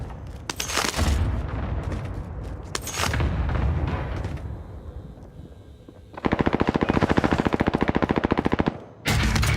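Video game air strike: rapid bursts of heavy machine-gun fire and booming explosions, loud and close, with short pauses between volleys and a final dense rattling barrage.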